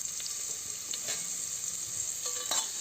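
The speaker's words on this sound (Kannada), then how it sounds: "ಈರುಳ್ಳಿ ಹಾಕಿ ಸ್ವಲ್ಪ ಫ್ರೈ ಮಾಡ್ತೀನಿ." Onions fry in oil with whole spices such as cloves, cardamom and bay leaf for vegetable pulao, a steady soft sizzle with a few light stirring scrapes.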